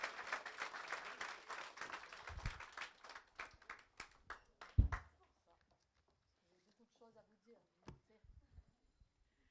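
Audience applause at a public presentation of a local election programme, a burst of clapping that fades out after a few seconds, followed by quieter sparse sounds and scattered claps.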